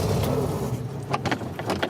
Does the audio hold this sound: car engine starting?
yes